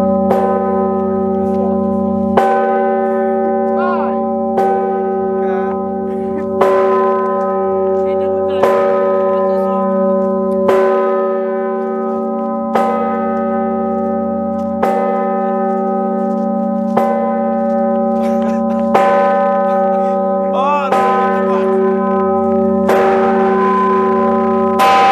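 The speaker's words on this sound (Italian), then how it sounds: "Arrivati alla campana dei caduti, dei dispersi di" Memorial bell for the fallen and missing, a large church bell struck at steady intervals, each loud clang ringing out with long overlapping resonance, close and clear.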